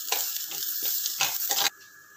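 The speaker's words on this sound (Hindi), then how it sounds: "अब हम इसमें अपनी ग्रेटेड अदरक ऐड करेंगे" Grated ginger dropped into broken wheat daliya roasting in a pan: a few scraping stirs with soft sizzling, then the frying noise cuts off abruptly near the end, leaving a faint hum.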